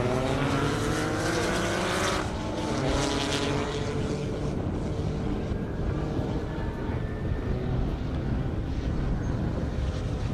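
An Acura NSX and a McLaren race side by side down a half-mile airstrip in a 200+ mph drag event, their engines roaring in a loud, sustained rising whine that fades as they pull away into the distance.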